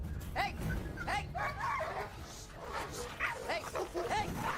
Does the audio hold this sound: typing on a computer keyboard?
no